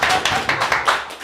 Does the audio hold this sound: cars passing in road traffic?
no